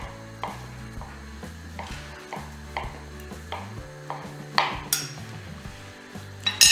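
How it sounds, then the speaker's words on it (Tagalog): A knife cuts canned tuna into smaller pieces for a tuna and fresh tomato spaghetti. Soft, evenly spaced taps of the blade sound on a board, with a few light clinks, close and quiet, and music plays underneath. "Ngayon, i-cut na rin po natin yung tuna."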